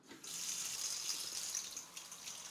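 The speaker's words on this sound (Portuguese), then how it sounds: "Liga a torneira, Renato." Water runs steadily from a sink tap as a continuous bright hiss with no speech over it, holding fairly even before easing slightly toward the end.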